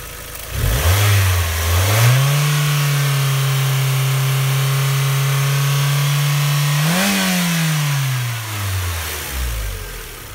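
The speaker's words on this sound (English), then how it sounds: "The engine runs great," A 2000 Mazda Miata engine with 54,000 miles idles, then climbs to a steady held rev and drops back to idle, its droning tone loud and close with no voices.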